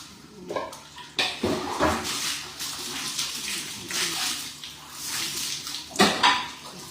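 Water splashes from a dipper during a bath, several pours gushing and spattering onto a body and floor in uneven bursts, close and echoing in a small bathroom.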